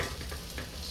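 Brown sugar being stirred into a pot of homemade baked beans, a soft continuous scraping and sizzling texture close by, with faint sautéing underneath and no talk.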